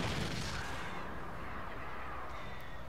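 A flare gun fired in Alan Wake gives a single loud, booming shot at the start, followed by a hissing burn that slowly fades over a low, steady rumble.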